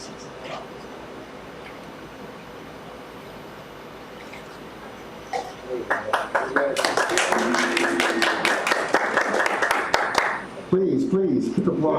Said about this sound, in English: Please, keep applauding.